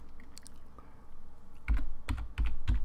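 Typing on a computer keyboard while writing Python code, with faint scattered key taps followed by four louder, close clusters of keystrokes, no talking.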